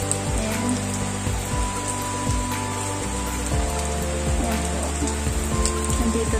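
Night rain pours steadily on surfaces around a rural quarantine area in the Philippine province, a dense close hiss with scattered drips and taps, with no voices.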